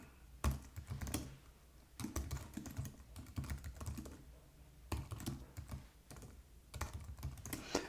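Fast bursts of keystrokes on an Apple computer keyboard, close and clear, arriving in several clusters separated by short pauses.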